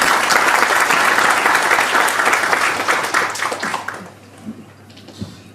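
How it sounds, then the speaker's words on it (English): An audience at a conference in Sydney breaks into loud, dense applause that holds for about four seconds, then fades quickly to a few scattered claps and quiet room noise. "huge round of applause, please, for everyone"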